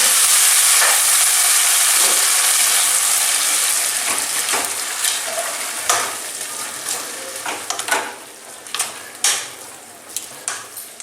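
Grated watermelon rind dropped into a pan of fried ingredients, loud close sizzling hiss that starts strong, fades gradually, then gives way to scattered stirring scrapes and crackles.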